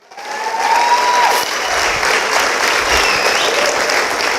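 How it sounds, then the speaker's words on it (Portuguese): Church congregation breaks into loud, dense applause that swells within a second and holds steady, a close crowd of many hands clapping together with faint cheering mixed in. "Vamos aplaudir Jesus."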